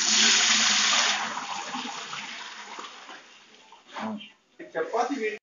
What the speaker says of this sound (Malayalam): ചൂടായ പാത്രത്തിലേക്ക് നമ്മൾ വെള്ളം ഒഴിക്കുകയാണ്.